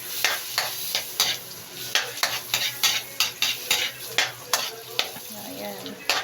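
Ginger and garlic sizzle in a hot pan for buttered shrimp while a utensil scrapes and stirs in a quick, regular rhythm of sharp clicks over the steady frying hiss.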